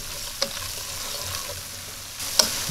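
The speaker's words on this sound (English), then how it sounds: "we're going to go ahead and add our flour in. And I'm going to stir this in" Flour being stirred into translucent onions in a pan for cream of mushroom soup, with a steady low sizzle and a couple of sharp scrapes of the spoon against the pan, no talking.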